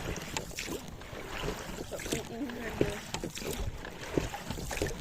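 Oars splash and knock in an uneven rhythm as a small fishing boat is rowed on a pike-fishing trip, with water lapping, wind noise and occasional voices nearby.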